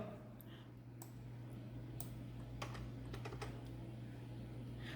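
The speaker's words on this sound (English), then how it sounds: "So let us type AJIET." Sparse keystrokes on a computer keyboard, a handful of quiet clicks spaced unevenly over a steady low electrical hum in a room.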